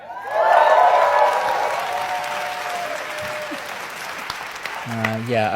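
Applause from an in-person audience at a Google event, a dense steady wash of clapping with voices mixed in, swelling early and holding loud through to the end.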